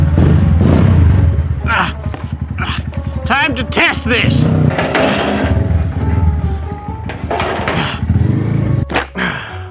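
Motorcycle engine rumbling and revving while being ridden, loud and close with thumps and bursts of acceleration, under a voice talking throughout.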